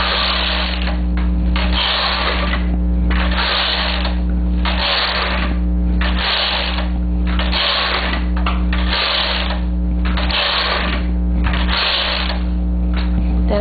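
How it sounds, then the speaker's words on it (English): A domestic knitting machine carriage knitting rows, with steady rhythmic mechanical clacking and whirring passes repeating about every one and a half seconds, continuous and close. "and then I'm going to knit 9 rows."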